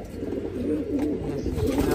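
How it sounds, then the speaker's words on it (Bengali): Pigeons in a loft give soft, low, repeated cooing over a quiet background murmur. The calls come close together and stay fairly steady throughout. "এই যে এখানে দেখতে পাচ্ছেন কিছু কবুতর"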